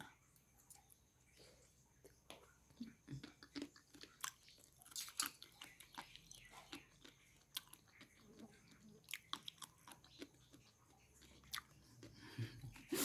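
Someone chews a crunchy snack close to the microphone, with repeated crisp bites and crunches in an irregular rhythm that continues throughout.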